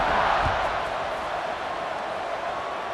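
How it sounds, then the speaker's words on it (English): Steady crowd roar filling a football stadium during a college game in Bloomington, a dense continuous buzz that holds at an even level throughout with no clear voices standing out. "this crowd is buzzing after that last score"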